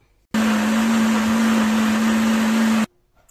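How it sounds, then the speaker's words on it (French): A blender whirs steadily at full speed for about two and a half seconds, blending ripe mango and passion fruit into juice, starting and stopping abruptly with a loud, even motor drone and no talk. "Donc c'est parti, on va mixer ça."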